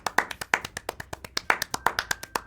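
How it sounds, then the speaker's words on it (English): A short burst of applause in the video game Doki Doki Literature Club after a poem reading, with sharp, rapid claps from a small group of hands and no voices. "Natsuki finishes, and everyone applauds."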